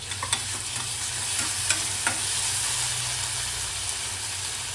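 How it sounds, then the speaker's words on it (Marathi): Ginger, garlic and green chili paste frying with reddish-browned onions in a pan gives a constant loud hissing sizzle. A few light scrapes and taps come early on, and no one speaks. "आता आपण त्याच्यात टाकू अद्रक लसूण मिरचीची पेस्ट"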